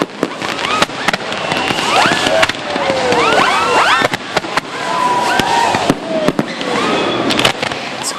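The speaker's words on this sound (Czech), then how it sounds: "Veškeré veselí bylo již tradičně zakončeno velkolepou tečkou v podobě krásného ohňostroje" Fireworks display closing a five-day town festival (odpust) in Kravaře, Czech Republic: a dense, continuous barrage of loud booms and sharp crackles with rising whistles, heard at close range with faint crowd noise underneath.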